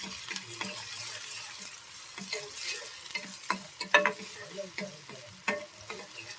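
Onion frying in hot oil in a pan, a continuous close sizzle with irregular stirring scrapes and clicks, no talking.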